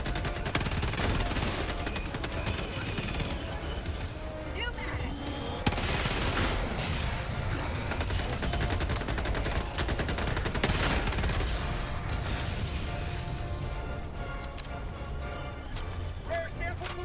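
Automatic weapon fire in Helldivers 2, long sustained bursts of rapid shots with booms, loud and continuous, while a voice talks over the fighting.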